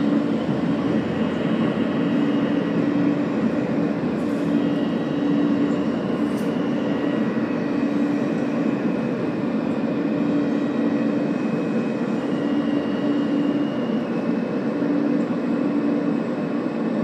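Steady, loud rumble of an R160 Q local subway train running along the tracks toward Coney Island, with a continuous low roar and faint squeals, no voices.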